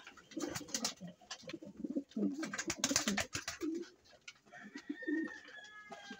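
Several pigeons coo in low, rounded bursts, close by and overlapping, with a faint higher bird call near the end.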